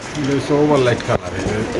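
Caged racing pigeons coo softly at a pigeon seller's stall, nearly buried under someone talking close by.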